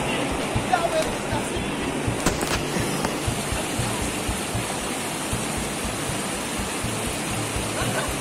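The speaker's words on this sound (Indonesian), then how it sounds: "Ini sungai yang akan kita lintasi. Sebenarnya airnya masih cukup deras ya." Fast, strong river water rushes on the approach to a haunted waterfall, a steady broadband roar that fills the whole clip with no breaks.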